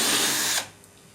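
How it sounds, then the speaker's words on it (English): Electric screwdriver whirring as it backs screws out of the outer casing of a Beko DRCS76W tumble dryer, a loud steady close buzz that cuts off abruptly partway through, leaving quiet. "This is where your electric screwdriver comes in handy, and just systematically take off all the screws around the outside."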